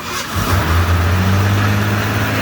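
A vehicle engine cranks and catches within the first half second, then settles into a loud, close, rising rev that holds strong and steady.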